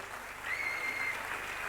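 Applause from an audience at a motivational talk about running a shop, a steady wash of clapping that holds evenly throughout, fairly quiet and with no voices over it.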